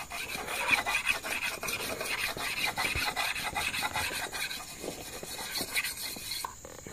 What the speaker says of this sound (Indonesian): Di sini sangat mudah untuk menggosok dodos, cukup kita batu gosok sama air, sedikit air itu.